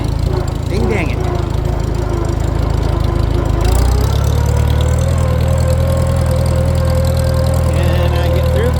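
A Farmall C tractor engine running nearby, a loud steady low chugging drone that shifts pitch partway through as the engine note changes, with a person talking over it.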